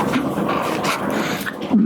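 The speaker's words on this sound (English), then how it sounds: "You might be able to hear my dogs fighting right now." Two pet dogs playing and scuffling indoors, giving off short yips, whimpers and low growly barks in a steady busy tangle close by.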